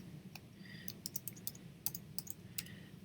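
Quick, uneven keystrokes on a computer keyboard as a word is typed, a dozen or so sharp clicks in a short burst, close and clear with no voices.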